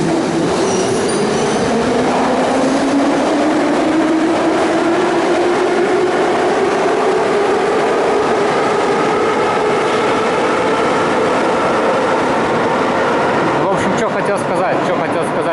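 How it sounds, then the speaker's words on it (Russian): A Saint Petersburg metro train rumbles past with a rising wheel whine and steady rail noise throughout, loud and close, with some talking underneath. "Тут постоянно поезда шумят, поэтому только начинаешь говорить и сразу тебя не слышно, потому что поезд опять едет."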